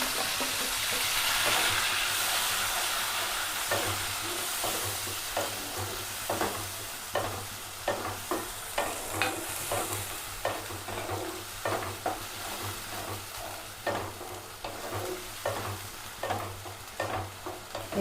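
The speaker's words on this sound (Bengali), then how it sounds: "এটা 5 মিনিট মতো এরকমই নাড়বেন, যাতে এটা একটু হালকা হালকা ভাজা হয়ে এই যে জলটা আছে মশলা শুকিয়ে আসবে।" Ginger-garlic paste with bay leaf and cumin fries in a pan while a spoon stirs it. A steady sizzle runs under repeated rhythmic scraping strokes, close and fairly loud, with no talking.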